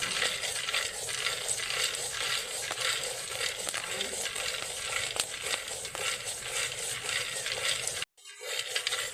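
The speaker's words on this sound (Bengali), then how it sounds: "আবারও একবার দিয়ে দেবো, একই রকমভাবে ছোলাটাকে ভেজে নেব।" Chickpeas dry-roasting without oil or sand over a clay stove, stirred continuously with a steady scraping, rattling hiss and small clinks of pieces against the pan, loud and close, cut off briefly near the end before resuming.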